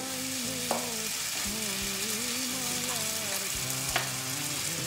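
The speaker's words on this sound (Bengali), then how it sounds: "এই আলুগুলোকে ভেজে নেব, এগুলো ভাজবো।" Potatoes frying in a hot wok for a Bengali chicken curry, a steady broad sizzle heard close with a few sharp clinks of a utensil against the pan and no talking.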